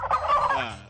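A voice imitates a turkey gobbling with a rapid 'glu glu glu' warble during a stage comedy show at a festival, a single loud, close burst lasting about a second.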